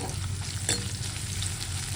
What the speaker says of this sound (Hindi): तो ये अच्छा से मस्त फ्राई करते हैं पहले।